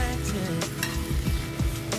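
Shrimp frying in a pan while cooking sipo egg, a steady close sizzle with stirring scrapes and soft clatter running throughout.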